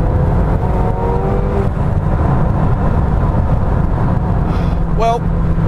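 A McLaren 720S supercar engine drones steadily while driving, with a rising whine near the start and another brief climbing rev toward the end, under someone speaking throughout.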